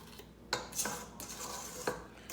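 A spatula scrapes chocolate chip cookie batter down the sides of a mixing bowl, giving several close scraping strokes with light knocks against the bowl.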